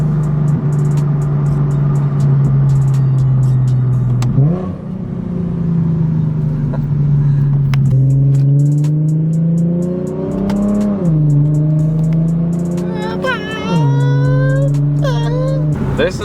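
A car fitted with a new aftermarket exhaust drones loudly while cruising, then snaps into sharp rev blips on each downshift, with the pitch climbing and falling several times close up.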